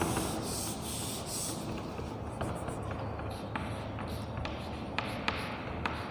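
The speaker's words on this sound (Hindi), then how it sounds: "तो यहाँ पे लिखेंगे" Marker or chalk scratches across a classroom board in short scratchy strokes with small taps between them. The sound is close and steady, and nobody speaks.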